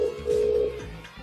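A steady telephone tone sounds on a live game-show segment, sustained for about a second with faint background voices underneath, as a call is being dialed out.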